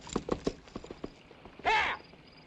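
Horse hooves clip-clop in a quick uneven run on open ground in a 1970s Western, the beats faint and fading, followed by a short loud whinny-like cry.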